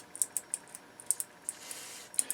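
Switch on a Harman Kardon Citation 15 clicking after being cleaned with contact cleaner, a rapid series of crisp, light clicks at an irregular pace, close and fairly quiet.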